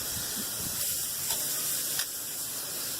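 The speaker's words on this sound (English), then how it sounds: "We are gonna pop them on there super hot, and again, literally, we're gonna cook them for maybe 1 minute per side on this scorching hot fire" Skirt steaks sear on a scorching hot fire with a steady, close hiss and sizzle, with a couple of sharper spitting pops.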